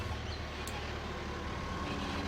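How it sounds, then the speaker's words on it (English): A big truck rumbles nearby, a steady low engine drone filling the clip with broadband road noise and no clear breaks. "Big truck."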